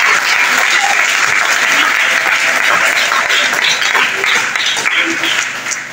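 Sustained, loud applause from a church congregation at a Methodist temple farewell service, dense clapping that fills the space evenly and fades slightly toward the end.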